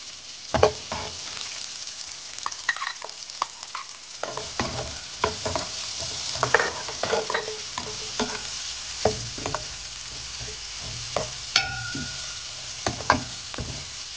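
Onion hitting hot oil with lightly browned garlic for pork spare rib adobo in chili oil, a steady sizzle under repeated scraping and knocking stirs of a utensil against the pan, close and continuous.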